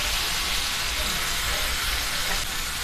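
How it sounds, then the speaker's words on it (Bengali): Cashew paste fries in hot oil in a pan with a steady, dense sizzle that holds at an even level throughout, close up and with no voices. "এখন আস্তে আস্তে আমি ভালোভাবে ভেজে নিব, যাতে ওর মধ্যে কাঁচা গন্ধটা না থাকে"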